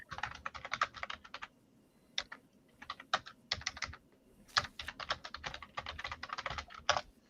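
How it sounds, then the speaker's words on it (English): Rapid typing on a computer keyboard, close and clear, comes in bursts of quick clicking keystrokes separated by short pauses, with no voices over it. "I hear typing."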